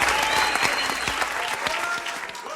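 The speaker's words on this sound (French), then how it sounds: "Je vous prie d'applaudir donc Maître Wise" An audience at a Green Card winners' evening gives a warm round of applause for lawyer Haywood Wise, with dense, sustained clapping from a crowd and some voices mixed in.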